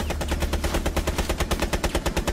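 Rapid machine gun fire shoots through walls in the Rainbow Six Siege video game, a loud, steady stream of close shots in a fast even rhythm lasting over two seconds.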